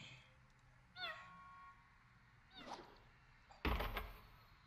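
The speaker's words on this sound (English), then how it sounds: "Can you hear the beanbags meowing?" Meowing from beanbags in the ForeVR Cornhole VR game, two short cat-like meows a couple of seconds apart, followed by a louder thump, all fairly faint.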